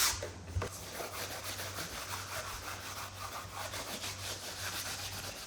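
Sandpaper rubbed by hand over painted antique furniture to distress its finish, a steady scratchy rasp in repeated back-and-forth strokes, close and moderately loud, with no voices.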